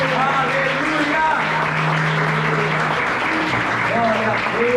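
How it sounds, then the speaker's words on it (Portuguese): Congregation applauding in a church service, clapping spread through the room under a held musical tone and other voices, steady and moderately loud throughout. "aplauda a Ele com toda a sua força"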